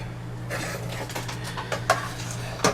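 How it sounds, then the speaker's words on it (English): A grease jar being set back down beside a cast iron skillet while making hash, giving a few light clinks and knocks of glass on metal over a steady background hum, with one sharper tap near the end. "Alright, we'll put the grease jar back."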